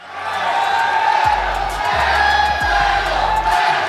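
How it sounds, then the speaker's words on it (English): Large stadium crowd at the MLBB M6 World Championship cheering in a continuous loud roar, with repeated deep low thumps cutting through the noise. "It's a very heavy crowd right now."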